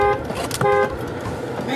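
A car pulls up and sounds its horn, two short toots close by over engine rumble and background noise.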